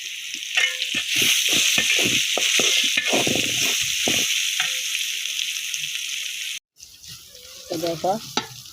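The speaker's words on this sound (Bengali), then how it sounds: "আগে আলু ভাজিটা বসাই দিলাম দেখো" Potatoes frying in a pan in a Bangladeshi village kitchen, a steady loud sizzle with the clatter of a spatula stirring throughout, then a brief break and more stirring.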